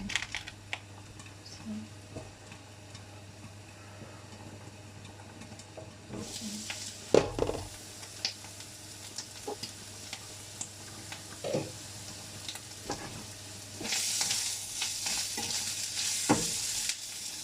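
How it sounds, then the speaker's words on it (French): Carrots and mushrooms cook in a pan, giving a quiet steady sizzle with occasional utensil scrapes and stirring knocks, briefly louder hissing bursts near the middle and end. "il y a les carottes qui sont en train de cuire. Il y a les champignons aussi."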